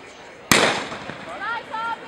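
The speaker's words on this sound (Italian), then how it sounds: "Il colpo di pistola ci comunica che partita la gara dei 1300" Starting pistol fired at the start of a 1300 m race at a regional cadet athletics championship in Bassano del Grappa: one sharp, loud crack with a ringing decay, followed by faint voices.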